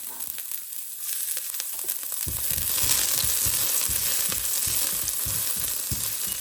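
Garlic sizzling in olive oil in a frying pan, a bright continuous crackle that grows as it hits the hot oil, with rhythmic low scraping of stirring underneath, close and steady, no talking.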